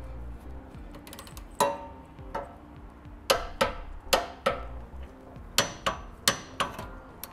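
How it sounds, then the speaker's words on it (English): A torque wrench tightens the bolts of a Curt trailer hitch receiver under a vehicle, giving a series of sharp metallic clicks, some single and some in quick pairs, close and fairly quiet. "we're gonna go ahead and come back and torque it down to the specified amount in the instructions"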